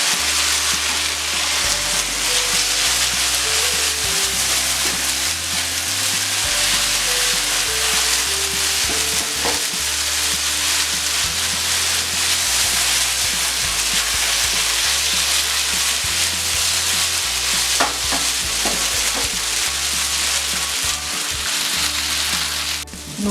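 Veg Schezwan Manchurian noodles stirred and fried in a pan, a steady loud sizzle with scraping stir strokes running throughout without pause.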